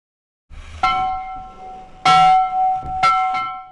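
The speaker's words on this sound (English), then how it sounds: "The bell rings by hand at Shaw Island School." A hand-rung bell at a 136-year-old schoolhouse on Shaw Island clangs in three or four ringing strikes, each bright tone decaying briefly before the next, close and clear.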